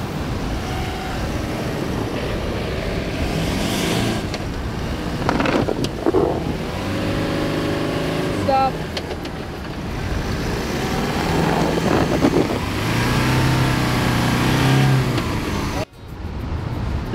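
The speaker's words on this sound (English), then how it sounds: "we are stuck in the sand, so thankfully we got the Max tracks" A car's engine revs hard while the vehicle sits stuck in deep sand on Max traction tracks, the roar rising and falling steadily throughout with people talking over it.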